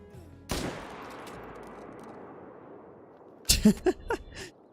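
Gunfire in the hunting video game Call of the Wild: a sharp shot early on rings out with a long decaying echo, then a later cluster of several quick, loud shots close together.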